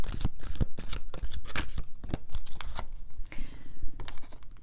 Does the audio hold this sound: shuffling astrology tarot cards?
yes